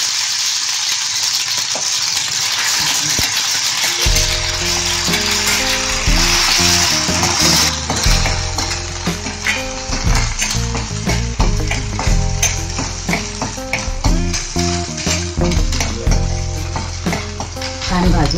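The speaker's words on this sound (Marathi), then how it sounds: "तेल तापल्यावर त्याच्यात खोबरं, कांदा आणि आलं लसूण पेस्ट टाकून" Grated coconut, onion and ginger-garlic paste fry in hot oil, a steady broadband sizzle with light stirring clatter, overtaken after a few seconds by loud tonal background music.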